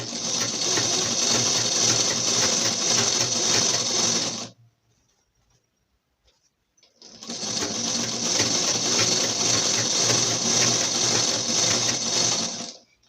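A sewing machine stitches a fall onto a saree in two loud, fast, rattling runs of about four and six seconds, separated by a brief quiet pause.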